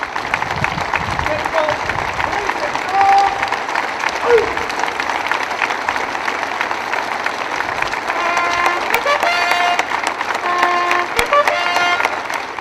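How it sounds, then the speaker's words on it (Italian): A long applause from a crowd lining a funeral procession as the coffin arrives at the Cathedral of San Giustino, with a military honor guard present. Sustained outdoor clapping with voices in the crowd and whistle-like tones rising toward the end. "Accolto da un lungo applauso"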